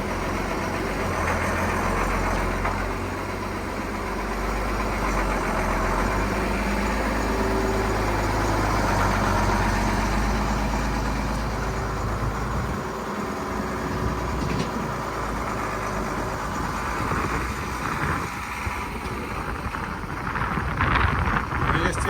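A ZIL 4331 truck fitted with a Mercedes engine, rebuilt from scratch and on its first drive, runs with a steady low rumble that holds throughout. The engine is close and loud, with voices talking over it.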